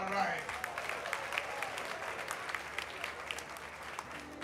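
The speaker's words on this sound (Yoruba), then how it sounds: "ó yá bá àtẹ́wọ́ fún ara ẹ" An audience claps steadily throughout a Yoruba film event, a dense wash of applause at moderate distance that starts with a louder burst and holds evenly to the end.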